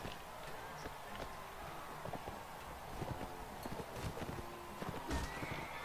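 Horses in a medieval battle video game: quick clip-clop hoofbeats under a steady wash of background noise, with faint distant whinnies and clatter mixed in, at moderate volume and without talk.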